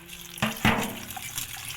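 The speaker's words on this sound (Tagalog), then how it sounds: "Ngayon, lalagyan natin siya ng tubig." Tap water splashes onto thinly sliced potatoes in a kitchen bowl, with two brief pours followed by a softer steady trickle, close and fairly quiet.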